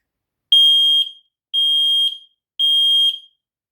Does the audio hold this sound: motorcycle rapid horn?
no